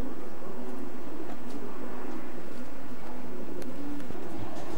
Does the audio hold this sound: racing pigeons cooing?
yes